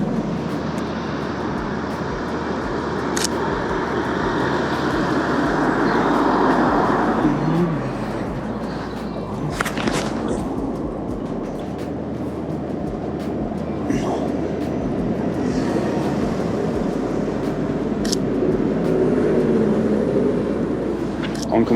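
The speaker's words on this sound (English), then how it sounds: "Oncoming traffic here" Busy London street traffic rolls past close by, a steady broadband roar of passing vehicles with rumbling low end, swells as cars approach and occasional higher engine notes, continuing throughout.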